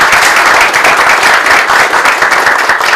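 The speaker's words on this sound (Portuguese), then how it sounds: "uma salva de palmas ao Thiago" Audience at a psychology and democracy event applauds for Thiago, a dense, steady burst of many hands clapping, loud and close, with no pause.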